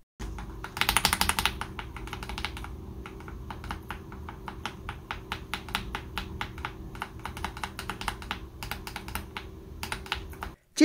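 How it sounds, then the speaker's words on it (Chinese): Typing on a KBD67 Lite R3 custom keyboard fitted with Akko CS Jelly switches: a steady run of crisp, close keystroke clicks, dense and fast at first and then even and rhythmic, with no talking. "接下来听一下打字声音。"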